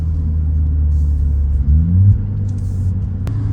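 Nissan Z with an automatic transmission driving on a race track, a steady low engine rumble heard from inside the car with a brief surge partway through.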